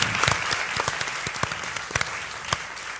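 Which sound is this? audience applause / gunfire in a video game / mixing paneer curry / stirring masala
audience applause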